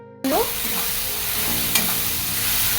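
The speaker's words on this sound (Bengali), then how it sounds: "এদিকে শুকনো লঙ্কা আর কালো জিরে ফোড়ন দিয়েছি" Dried red chillies and nigella seeds hit hot oil as a tempering for a Bengali fish jhal, with a sudden loud burst of sizzle that settles into steady close crackling, with no voices.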